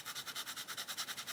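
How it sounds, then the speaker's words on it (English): Metallic pen scraping across paper in quick regular back-and-forth strokes, faint and close with nothing else heard. "Ooh, this makes quite a scrapey noise on that paper"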